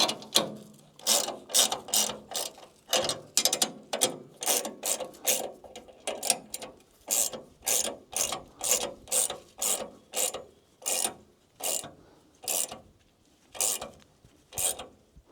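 Ratchet socket wrench tightening bolts on a Grasshopper mower: close, crisp bursts of clicking ratchet strokes repeat in a steady rhythm, roughly twenty pulls in a row, with no talking.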